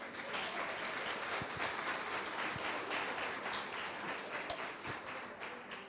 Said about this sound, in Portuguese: Vamos dar um aplauso para o Espírito Santo?